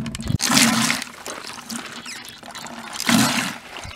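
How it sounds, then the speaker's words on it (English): Water gushes from a hand pump at an off-grid homestead, arriving in two loud surges with a steadier flow between them. "5 pumps and he got water."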